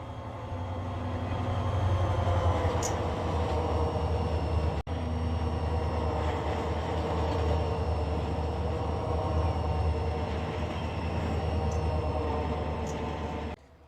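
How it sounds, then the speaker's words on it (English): BNSF freight train passing in the Run8 train simulator video game, a steady loud rumble with low engine drone and rolling wheel noise held for the whole stretch, with brief high squeals now and then. "we actually have a BNSF train coming."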